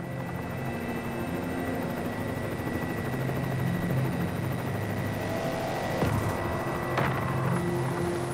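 A rescue helicopter on Réunion island, heard from inside the cabin as a loud, constant engine and rotor drone with a steady low throb and a couple of sharp clanks near the end.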